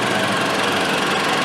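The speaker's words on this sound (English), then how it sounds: "fan running right now" A car's engine-bay cooling fan runs with a dense, loud, continuous whir and mechanical rumble and no pauses, close to the microphone. The car has an intermittent no-crank, no-start, stalling fault. There is no speech.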